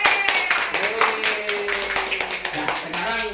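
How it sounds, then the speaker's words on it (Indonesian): Clapping for Bu Lili at a community gathering, a group of hands beating in a loose rhythmic pattern, fairly close, with a voice talking over it and a tonal hum underneath. "Untuk kasih tepuk tangan kepada Bu Lili."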